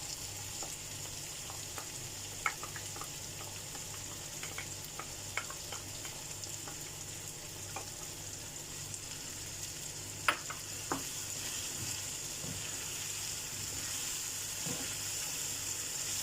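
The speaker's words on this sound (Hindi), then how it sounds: "इसे अच्छे से मिक्स करना है और भुनना है कि हमारा मसाला का स्मेल भी ख़त्म हो जाए" Chickpea masala with yogurt sizzles softly in a pan while being stirred and fried for Lahori chikar cholay, with a steady low frying hiss and occasional light scrapes and clinks.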